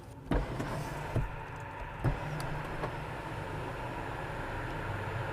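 The electric sunroof motor of a 2024 Haval Jolion 1.5 Turbo whirs steadily inside the cabin, with a few soft clicks as it starts and moves, close and fairly quiet.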